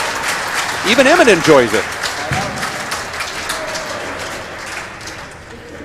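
Crowd applause at a men's four-wall handball match in the round of 16 of the 2009 World Handball Championships, rising under a commentator's voice and fading as talk continues.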